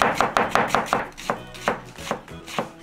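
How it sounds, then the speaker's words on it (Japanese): A knife chops onions for a seafood curry on a cutting board, a brisk run of about a dozen crisp, close thuds in an even rhythm that slows toward the end, with no talking. "玉ねぎを切っていきます。"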